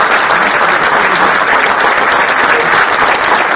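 A convocation crowd at Thapar Institute of Engineering & Technology gives a standing ovation for the Chief of the Air Staff. Loud, thick applause fills the whole moment without pause.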